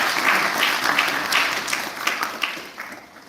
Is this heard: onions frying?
no